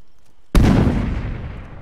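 A frag grenade detonates in Arma 3 with a sudden loud blast that cuts into near silence, then a long rumbling tail slowly fades over the next second.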